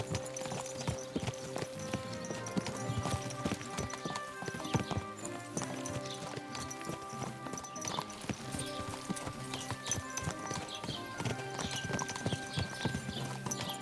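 Steady clip-clop of horse hooves from a ridden horse in the medieval game Kingdom Come: Deliverance II, continuous and close, layered over dense in-game ambience and background music.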